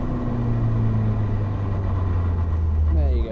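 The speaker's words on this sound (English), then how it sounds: "So what you get when you lift off is this judder, this backlash through the transmission." A Caterham sports car's transmission judders and snaps with backlash as the driver lifts off the throttle. A steady, loud engine drone sits close by throughout and wavers near the end.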